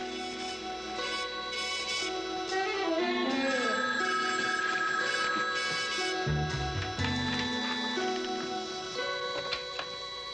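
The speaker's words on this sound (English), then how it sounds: "When the phone rings, answer it." An old telephone bell rings in rapid repeated bursts indoors, mixed with a busy dramatic orchestral score.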